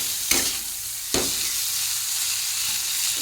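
A dal tempering of green and dried chilies, onion, garlic, panch phoron and tomato fries in hot oil, making a steady, close sizzle with two sharp utensil clanks early on and no speech.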